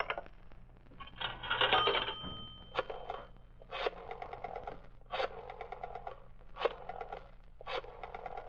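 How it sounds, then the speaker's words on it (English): An old-style telephone rings in a radio drama after a number is dialed, giving a buzzy bell tone in evenly spaced bursts after a brief burst of dialing noise, alone and fairly faint. "I'll dial that number and ask for Rittman."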